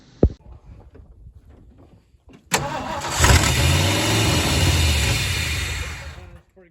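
A 1967 Ford Galaxie fitted with a borrowed 2-barrel carburetor cranks, catches with a sharp burst, then roars into loud, sustained revving. The engine holds high for several seconds before dropping off abruptly. A few quiet clicks come before the start.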